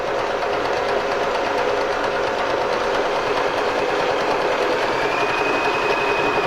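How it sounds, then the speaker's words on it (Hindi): An Usha Marvela sewing machine runs nearby with a continuous, even mechanical whir and rapid needle chatter that never stops. "अब हम मशीन को चलाएंगे।"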